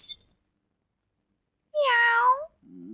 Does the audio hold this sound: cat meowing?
yes